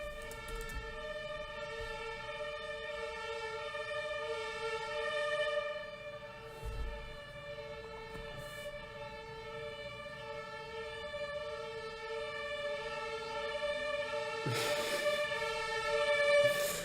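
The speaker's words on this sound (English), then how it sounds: "all Berlin ambulances have decided to go to my street." Ambulance sirens wail continuously on a Berlin street, the steady tones holding for many seconds, moderately distant and swelling slightly as they pass.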